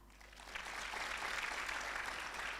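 An audience applauds at a live stage event held at a modern Islamic boarding school in Pamijahan, Bogor, West Java. The clapping swells quickly into dense, sustained applause that fills the hall.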